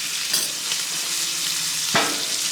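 Butter and beef tallow sizzling steadily in a cast iron pan over a gas grill, a constant close hiss with two brief sharper crackles and stirring, no talking.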